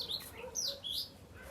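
Small birds chirping in the early morning, a few thin, faint tweets and trills over quiet background ambience.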